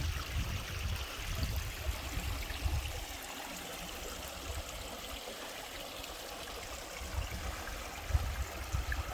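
A brook flows directly down a rocky hiking trail in the White Mountains National Forest, giving a faint, steady rushing and trickling of water at a distance, with a few low bumps as it runs.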